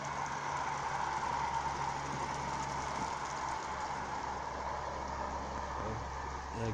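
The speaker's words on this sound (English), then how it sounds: "There goes the tram" A tram rumbles past a canal towpath in Manchester, a low steady rolling hum with faint mechanical clatter at moderate distance, continuous and without speech.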